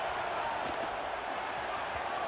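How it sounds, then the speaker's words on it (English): Stadium crowd roar in a college football video game, a broad, steady wash of noise at moderate level with a few faint thumps, no voices standing out. "It's early, but this crowd is fired up. Listen to this noise here."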